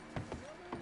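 A few hoofbeats from a horse in Red Dead Redemption 2, three soft, spaced thuds at close range against a quiet background.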